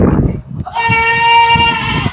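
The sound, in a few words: goat bleating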